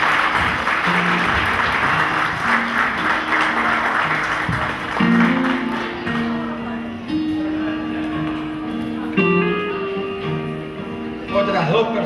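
Applause at a quinceañera candle ceremony carries on steadily throughout, mixed with soft music that holds sustained tones, with a slight swell toward the end.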